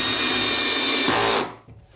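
A power drill whirs loudly and steadily, driving screws to fix a nest box onto a chicken coop, then cuts off abruptly near the end, leaving a faint clunk and near-silence.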